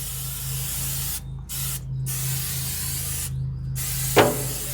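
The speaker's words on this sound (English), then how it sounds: "You can just spray it around, get it on all the surfaces" Canola oil sprays from an aerosol can inside an Oklahoma Joe's Rider DLX pellet grill, coating its surfaces in a close, steady hiss. The hiss pauses briefly several times and is followed by a faint clink.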